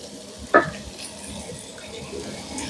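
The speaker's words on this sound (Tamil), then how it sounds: "இப்ப இந்த இறைச்சி மிரக்கறியும் அதுவும் கொஞ்சம் சேர்ந்து மிக்ஸ் பண்றதுக்கு கொஞ்சம் நேரம் நான் கிளறிட்டு இருப்பேன்." Meat curry gets stirred in a pan, one sharp scrape of the spoon followed by a soft steady sizzle that runs on alone.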